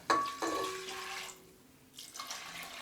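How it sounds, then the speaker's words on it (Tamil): Water splashes and streams into a cooking pot in two short bursts, about one and a half cups for mango sambar, with a quieter pause between, close by and fairly loud. "இப்போ ஒரு ஒன்றரை கப் அளவுக்கு நம்ம தண்ணி சேர்த்துக்கலாம்"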